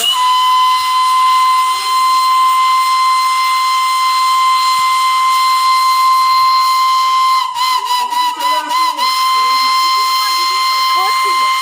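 A steam toy train in Darjeeling sounds a sustained, loud whistle with a steady harmonic tone that holds for most of the stretch, over hissing steam; near the end it stutters briefly amid faint background voices.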